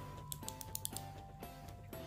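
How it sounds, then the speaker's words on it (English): Sharp clicks from the stylus pen of a Galaxy Note 9 phone, several quick taps in an uneven cluster and then a few spaced clicks over a low steady hum, close and fairly quiet. "And I keep clicking this pen the whole time."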